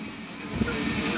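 Steam locomotive at a steam gala, heard as a steady loud hiss of escaping steam with a low rumbling undertone, continuous and close, with no talking over it.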